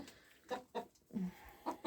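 A rooster chasing a hen, both clucking in short, agitated bursts close by, several sharp calls in quick succession.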